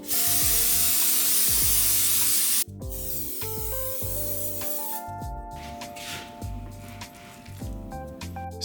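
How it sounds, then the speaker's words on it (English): Cooking spray hisses from a can into a muffin tin in a long burst, then a few shorter squirts and faint handling noises follow, close and clear with no voices. "Spray a muffin tin generously with cooking spray."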